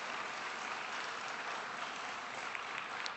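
Steady, dense applause from an audience at an awards dinner, a continuous, even wash of many hands clapping at a distance with no breaks.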